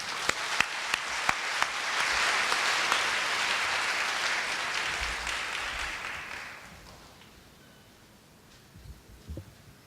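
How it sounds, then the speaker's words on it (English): An audience at a university opening ceremony gives a round of applause, starting with a few sharp claps, swelling into full steady clapping, then fading out after about seven seconds into quiet room noise. "Let's welcome Professor Lancaster with a round of applause"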